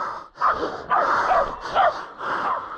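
Hunting dogs on a cane boar hunt barking and huffing in quick repeated bursts close by, rough breathy barks with snorting between them.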